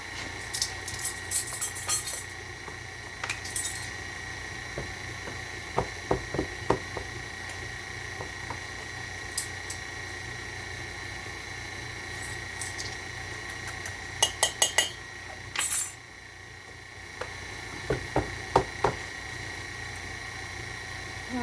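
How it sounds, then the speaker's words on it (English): Coconut flour and almond flour being mixed with baking powder in a bowl for low carb cookies, heard as scattered utensil clinks and scraping taps against the bowl, in bursts over a steady background hum. "I'm just going to mix this together."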